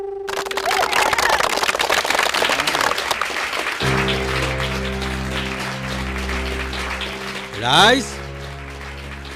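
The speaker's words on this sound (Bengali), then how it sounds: "হাততালি, হাততালি" A crowd claps at an election campaign speech in an Assamese film. Dense applause plays for a few seconds, then fades under a sustained musical drone with a brief rising swell.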